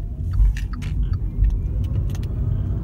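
Low, steady road rumble inside a 2020 VW e-Up electric car as it accelerates, with faint interior rattles and clicks above the hum.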